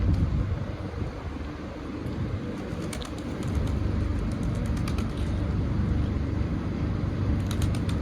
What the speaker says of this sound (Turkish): şöyle bir kuşları görelim. Kuşlar bir çıksın bakalım.